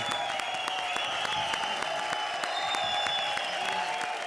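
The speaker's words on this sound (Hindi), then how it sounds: "जोरदार तालियां बजाओ" Studio audience applause at a comedy show, a steady dense wash of clapping held at an even level throughout, with no speech over it.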